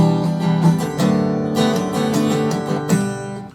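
Acoustic guitar strummed through a chord progression with the third finger lifted from the fretting, giving a more open voicing; several ringing strums in an even rhythm, close and clear, with no talking.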